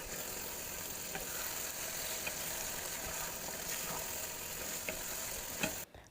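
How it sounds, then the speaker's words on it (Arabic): Chicken gizzards cooking with onion and peppers in a pan, a steady dry sizzle and crackle once the liquid has boiled away, continuous and fairly close with occasional stirring clicks, no talking. "ده صوت الشكشكه اللي قلتلكم عليه، وده معناه ان هي شربت خلاص كل الميه اللي فيها"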